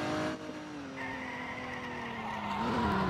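A car drifts in the Roblox game ER:LC, its tires skidding and squealing in a long sustained screech under a revving engine, loud and continuous.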